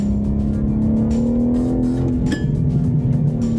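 2024 BMW M3 CS engine on a racetrack, a loud, steady close-up drone that drops in pitch partway through as it downshifts, with a brief blip of revs.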